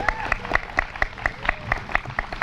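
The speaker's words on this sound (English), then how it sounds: "give her a big round of applause" Audience applause at an outdoor community Unity Walk, heard as a brisk steady run of close, fairly rhythmic claps.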